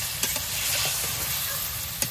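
Fried river fish dropping into a sizzling kadai, a steady close frying hiss with a few sharp crackles and stirring clatters throughout.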